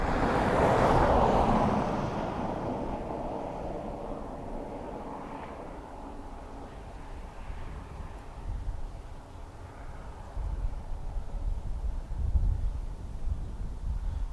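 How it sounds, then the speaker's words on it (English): A Delta Airbus A330 airliner takes off at Dublin Airport, a broad distant jet roar heard outdoors, swelling early and then rumbling on steadily with wind noise and no talk. "That noise you heard was the Delta A330 taking off."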